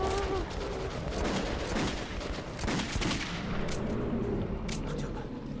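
Enemy gunfire in Metro 2033 Redux, repeated bursts of shots and impacts popping over a rumbling game backdrop, with a voice talking at times.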